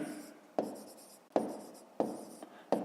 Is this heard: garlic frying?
no